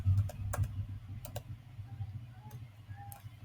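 Keys tapped on a computer keyboard while writing Python code, a few sharp clicks in small bursts with gaps, close and fairly quiet over a low steady hum.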